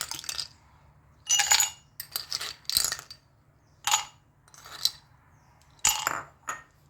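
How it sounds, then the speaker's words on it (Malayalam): Ice cubes drop into a glass of juice in a series of sharp clinks and rattles, about eight separate bursts at irregular intervals over a quiet low hum, close by. "ഇനി കുറച്ച് ഐസ് ക്യൂബ് ഇട്ട് കൊടുക്കാം."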